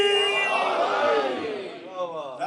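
A large crowd at a Muharram majlis roars back in unison to a Nara-e-Haidari slogan, a loud sustained chorus of voices that fades toward the end.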